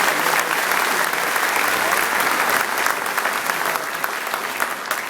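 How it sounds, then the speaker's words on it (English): A large audience at a gathering with New York's governor gives a dense, sustained round of applause, loud and continuous throughout. "Give them another round of applause."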